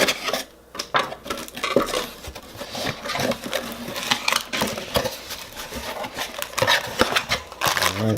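A knife saws and scrapes through the packaging of a Samsung Galaxy S9 Plus box, giving loud, close, irregular scratching, crinkling and clacking bursts with no voices.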